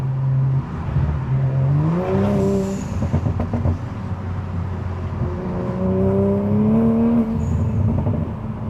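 A Dodge Viper on new tires drives at speed, a steady tonal whine rising in pitch twice under engine drone and road roar, loud and close throughout.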